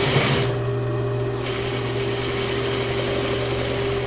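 A sewing machine stitching very thin fabric for handmade fabric flowers, heard as a steady, close mechanical whir with a constant hum that runs evenly without pause and has no talking over it.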